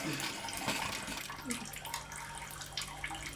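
Tap water running while dishes are washed, with faint clinks and splashes over the steady flow.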